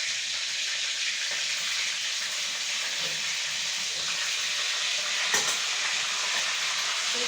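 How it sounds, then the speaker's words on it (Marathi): Curry leaves fry in hot oil in a kadhai (wok) while paneer masala is being made, giving a continuous bright sizzle and hiss that holds steady, with one brief louder crackle near the end and no talk. "त्याच्यानंतर कढईमध्ये कढीपत्ता टाकला"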